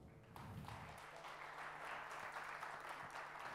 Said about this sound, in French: vous pouvez encore applaudir Artus de Longuemare pour cette intervention inspirante sur le sujet